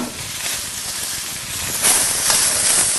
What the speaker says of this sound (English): So let this cook for a further 4 to 5 minutes so that the vegetables are nice and soft.